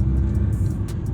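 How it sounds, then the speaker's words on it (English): Inside a right-hand drive demo van stuck in lunchtime traffic in the Netherlands, road noise rumbles low and steady, with a few brief hissing swells from passing vehicles. "We're now stuck in a bit of traffic around lunchtime"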